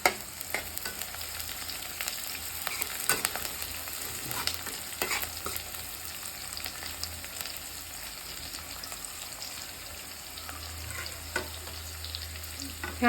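Green chillies and torn curry leaves fry in hot oil for upma, giving a continuous soft sizzle with occasional stirring scrapes and clicks, close and steady throughout.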